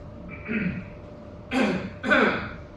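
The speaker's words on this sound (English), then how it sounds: "when you do or fake clearing of throat" Two short, forceful throat-clearing bursts close to the mic, after a softer vocal sound, clearly deliberate and exaggerated.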